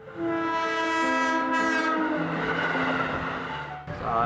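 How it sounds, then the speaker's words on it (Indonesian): A Jakarta commuter train sounds a long, loud horn blast while it passes close by, the sustained tone sliding lower before fading into rumbling wheels and a brief final horn burst. "apalagi kalau keretanya lagi ngebut atau bunyi klaksonnya panjang"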